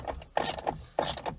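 A ratchet loosens the sun visor bolt on a Jeep Wrangler JK A-pillar, giving close, crisp clicking bursts in two quick back-and-forth strokes.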